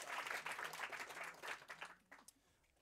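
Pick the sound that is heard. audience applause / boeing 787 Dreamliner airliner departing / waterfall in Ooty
audience applause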